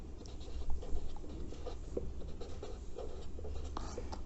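Pen scratching on paper while writing out an inverse trigonometric function solution, a continuous soft scribble with small taps, close and quiet, with no talk.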